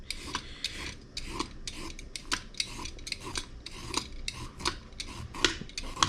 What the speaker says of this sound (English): This is how you peel a carrot when it's gone pretty fucking soft in the fridge.